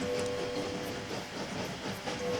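A train rolls along its tracks in the Train Valley video game, a steady rumbling hiss with faint rhythmic clatter and a sustained tone, continuous and fairly quiet with no talking.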